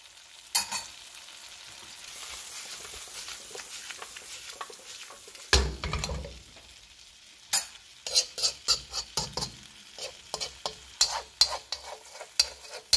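A vegetable stir-fry sizzles steadily in a heavy cast iron pan, then a burst of louder frying is followed by a rapid run of metal utensil scrapes and clanks as the food is stirred and flipped, close up with no talk.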